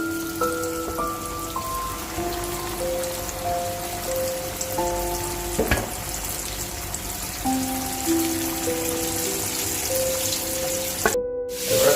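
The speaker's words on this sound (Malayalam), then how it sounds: "അതാണ് എണ്ണയിൽ ഇങ്ങനെ പൊരിഞ്ഞ് കിടക്കുന്ന നല്ല ക്രിസ്പി ചിക്കനായിട്ട്" KFC-style crispy chicken frying in hot oil gives a steady, dense sizzle like light rain, heard close and continuous over soft background music.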